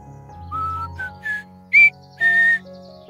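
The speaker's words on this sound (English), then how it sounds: "W for whistle" A whistle blown in several short bursts, the last two sharp and loud, the final one held longer, heard close over quiet background music.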